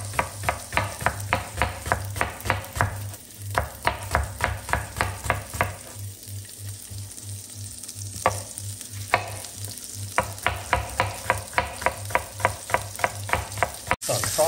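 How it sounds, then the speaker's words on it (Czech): Coarsely chopped onion fries in melted bacon fat in a pan, a steady close sizzle broken by repeated rhythmic scraping and stirring strokes, with no talk. "No a pak na tom osmažím na hrubo krájenou cibuli."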